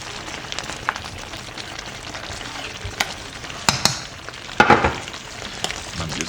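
A spoon stirs yam porridge (asaro) in a pot, making a low bubbling, sizzling bed with occasional scrapes and louder knocks near the end.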